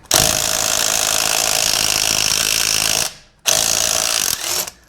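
Pneumatic impact gun on an extension loosening tightly torqued nuts underneath a car, a loud continuous whirring-hammering burst of about three seconds, a brief pause, then a second shorter burst, close and with no talk.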